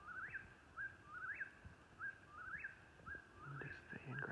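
Birds sing at night under a full moon, a repeating series of short rising whistled chirps spaced about a second apart, moderately near over a quiet background with faint rustling.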